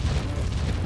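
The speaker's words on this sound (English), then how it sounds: "Throw the grenade!" Frag grenade detonation in Warhammer 40K Inquisitor Martyr, heard as a loud, deep rumbling boom that stays steady and heavy throughout, with no voices over it.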